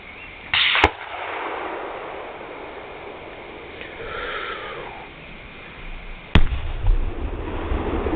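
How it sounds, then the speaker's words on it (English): Gunfire and a Tannerite explosion aimed at a Ford Contour, heard from a distance as two sharp cracks, the second followed by a rumbling boom, over a steady background rush with no talking. "See the smoke? That means they're shooting at it right now."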